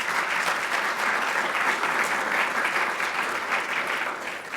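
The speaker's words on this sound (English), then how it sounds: "You've got a lovely round of applause" Audience applause fills a room at the close of a clinical education presentation, a steady, dense wash of many hands clapping that holds evenly throughout and eases slightly at the very end.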